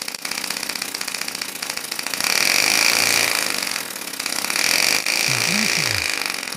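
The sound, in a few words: homemade air motor running at 4500 RPM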